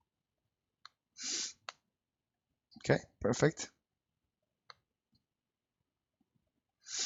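A computer mouse clicks a few times, making short, quiet, close ticks spread across quiet stretches, with a brief bit of speech in between.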